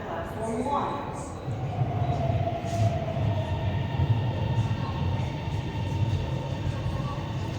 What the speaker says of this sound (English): The train bound for Chengtou-Gang is approaching at platform 1.